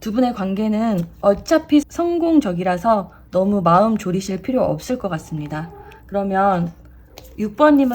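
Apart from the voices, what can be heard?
No everyday noises stand out.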